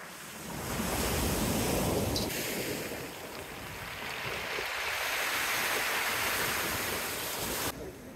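Big sea waves breaking on a pebble beach, a continuous loud roar of surf and churning water close by, with wind noise and no speech.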